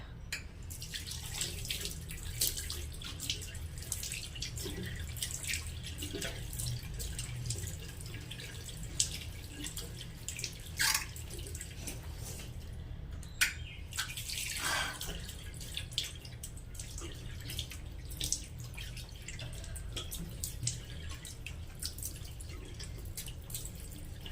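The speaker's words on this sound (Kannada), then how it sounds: "ಇವಾಗ ನಾನು ವಾಶ್ ಮಾಡ್ತೀನಿ" Water runs and splashes at a sink as a face is washed with a masoor dal powder face wash: a steady close wash of flowing water with irregular drips and splashes throughout, no speech.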